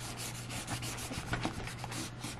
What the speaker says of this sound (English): I'm just gonna wipe off some of this gunk here.